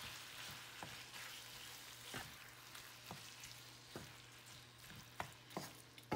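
Crawfish bread filling cooks down in butter, a steady quiet sizzle broken by periodic scrapes and taps of a spoon stirring the pan, with no voices.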